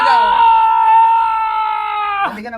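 A person lets out a loud, sustained high-pitched scream that holds for about two seconds before breaking off abruptly, close and dominant.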